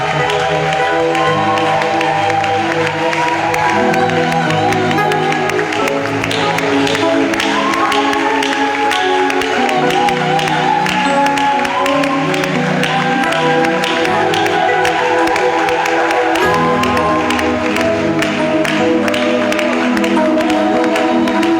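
A church congregation applauding and cheering to welcome papa Alain, with loud sustained clapping and crowd noise over music and voices throughout.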